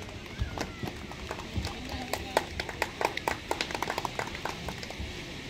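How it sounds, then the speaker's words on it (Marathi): Audience applause at a felicitation ceremony during a groundbreaking and birthday celebration, heard as a mid-level patter of hand claps that builds and becomes more distinct over several seconds, with faint murmuring underneath. "उपस्थित सर्व रसिकांना, सर्व नागरिकांना, सर्व मान्यवरांना मी विनंती करेन की जोरदार टाळ्या होऊन जाऊ देत सगळ्यांच्या"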